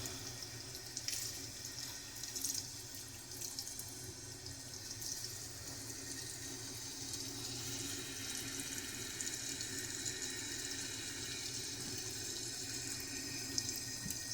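Lukewarm water runs steadily from a tap for a puppy's first bath in a continuous, even hiss, with no one talking.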